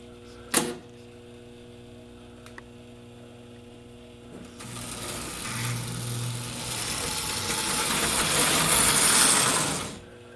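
A Marx E7 diesel toy train, a Penn Central 4000, starts up after a click and runs with a rising, whirring electric motor and rolling rumble that holds steady and then stops, over a constant mains hum.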